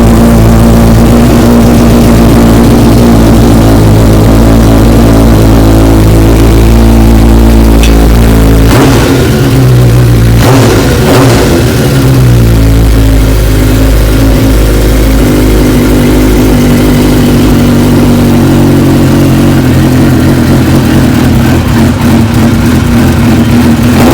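A Suzuki GSX-R 600 motorcycle engine, freshly fitted with new spark plugs, runs loud and close, settling into a steady idle with a few sharp revs in the middle before holding an even, rumbling tone.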